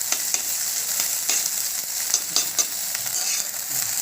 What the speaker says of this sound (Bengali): এইভাবে সুন্দর মতো নাড়াচাড়া করতে থাকবেন যাতে ডিমটা নিচে লেগে না যায়।